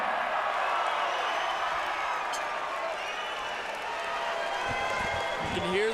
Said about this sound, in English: You can hear the crowd on that one, Jeff.